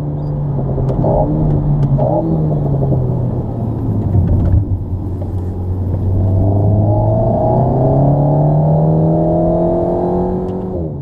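A 2019 Alpine A110 engine drones from inside the cabin while driving, a loud steady rumble that drops in pitch, then climbs again as the revs rise, with no talk.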